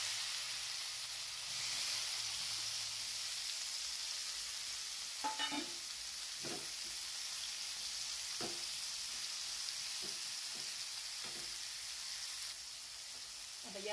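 Cleaned bitter gourd fries with cumin seeds in a pan, giving a continuous soft sizzle and hiss with several light scraping stirs of a spoon scattered through, fairly quiet and close.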